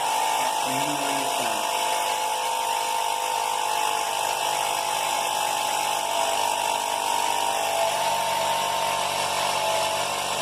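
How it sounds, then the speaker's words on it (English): A steady, continuous mechanical whirring hum of a small air pump pressurizing a syringe in a Boyle's law experiment runs throughout, fairly loud and close, with no clear speech. "we're going to pump air into it and increase the pressure"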